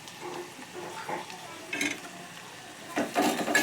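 Ginger garlic paste being stirred in a pan for a capsicum curry, a few soft scraping strokes and light clinks of a spoon against the pan over a faint sizzle, close and brief.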